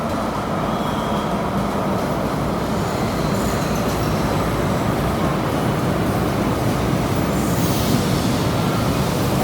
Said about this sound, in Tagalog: Nag-aantay lang tayo ng tren, no? Or bagon.